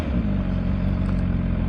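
A MV Agusta Brutale 1000 RS naked motorcycle engine drones steadily and loudly, a dense rumbling roar held at constant level throughout the short moment.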